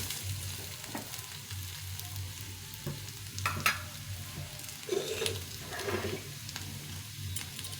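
Potatoes fry in hot oil in a pan with a steady sizzle throughout, broken by occasional scrapes and stirring noises of the spatula, close and fairly loud, with no talking.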